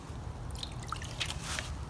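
Water is poured onto a whitewashed new wood board, giving faint scattered drips and a light trickle over a steady low background hum, with no talking.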